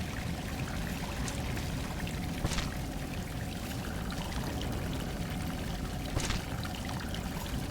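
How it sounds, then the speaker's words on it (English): Water flows and pours steadily in the side-scrolling video game Salt and Sanctuary, a continuous rushing stream with faint splashy accents, moderately quiet and unbroken by speech. "I'm following the water."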